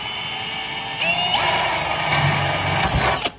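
A power drill bores holes in a carbon fiber rear subframe for a Panigale V4 SP motorcycle, a loud, steady high whine whose pitch shifts as the bit bites, ending with a brief stop.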